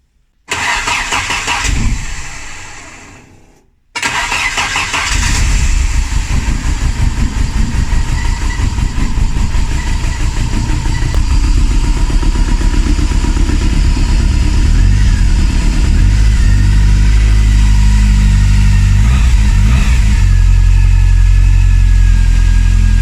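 A car engine that has sat unused for ages cranks, cuts out briefly, then fires and settles into a loud, rough, continuous idle with revving, close up and filling the space.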